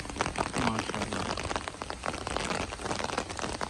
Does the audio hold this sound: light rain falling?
yes